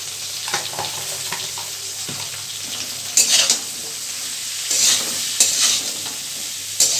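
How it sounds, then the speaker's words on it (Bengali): Spices with raw banana sizzle softly in a frying pan while being stirred, with steady frying hiss and repeated scraping stirs, some louder bursts near the end, and no talking. "মশলাগুলোকে মিশিয়ে নেব ভালো করে।"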